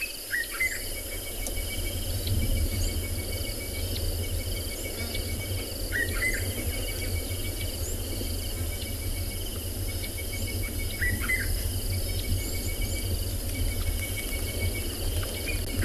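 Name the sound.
birds calling by a river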